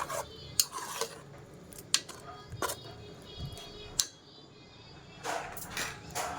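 A spoon knocks and scrapes against a pan as vegetable kurma mixed with ground paste and water is stirred, giving a few sharp metallic clinks and soft scrapes spread apart over a quiet background.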